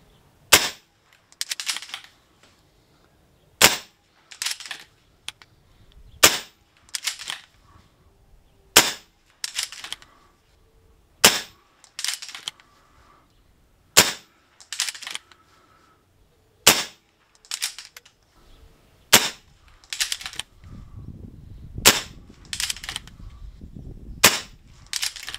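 Shots from a Stoeger XM1 S4 air rifle, about fourteen sharp cracks spaced a second or two apart, each followed by a short ring, loud and close with quiet gaps between.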